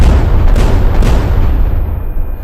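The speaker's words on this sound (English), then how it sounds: "The mortar rounds were firing faster and faster" Mortar rounds fire at close range at a National Guard mortar range, a loud, rumbling barrage of heavy booms with two sharper reports near the start.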